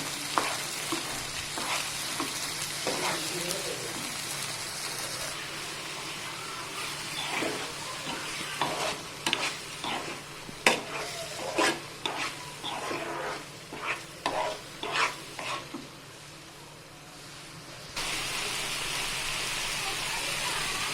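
A pan of paneer bhaji is sautéed and stirred, giving a continuous sizzle broken by a run of sharp scraping and clattering stirring strokes. A voice speaks over parts of it.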